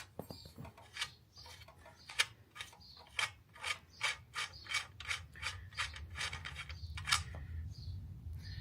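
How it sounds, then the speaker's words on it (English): Rear axle bolts with lock nuts being loosened on an electric trike, heard as a steady run of about a dozen close, crisp ratcheting clicks from a wrench over a low background hum, with no talking. "I'm going to go ahead and take off these rear bolts to the axle"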